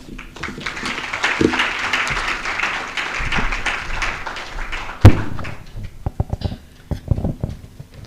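An audience applauds at the Business SDG Awards 2023 ceremony, with dense, sustained clapping that thins into scattered, sharper individual claps and thumps toward the end.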